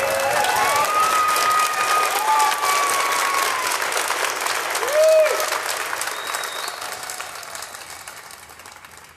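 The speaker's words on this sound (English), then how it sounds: "Can we give each other a big round of applause?" A large crowd at an evening rally in Salt Lake City, Utah, breaks into sustained applause, a thick wash of clapping with a few whistles and cheers that slowly fades out over about nine seconds.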